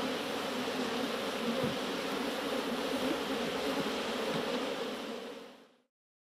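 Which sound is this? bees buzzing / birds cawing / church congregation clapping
bees buzzing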